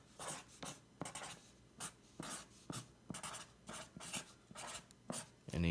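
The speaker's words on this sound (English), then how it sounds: "I take a marker, I put our tagline here underneath the label" A marker writes on a packaging label in short squeaky strokes, about a dozen quick scribbling bursts with brief pauses between, close and fairly quiet with no talking.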